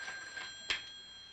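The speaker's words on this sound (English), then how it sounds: "That's our phone." A telephone rings once in a quiet room, a short, bright electronic burst that stands out against faint background tones.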